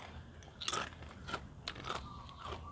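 Several sharp bites and crunches of crispy baked vegetable snacks, Thai-style, with a few distinct crisp bursts spaced across a quiet background and no talking.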